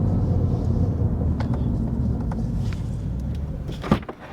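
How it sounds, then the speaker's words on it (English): A BMW M140i tuned to 500 bhp idles after track laps, a steady low engine rumble held close, with a couple of brief clicks and a thump near the end. "I've left the car running just so it can kind of cool down"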